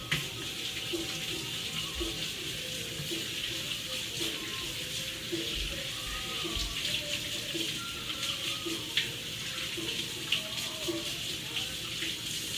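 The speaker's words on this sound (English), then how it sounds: "Off to the sink I go." Water runs steadily from a kitchen sink faucet, a continuous hissing splash at close range that holds throughout, with faint background sounds and no clear speech.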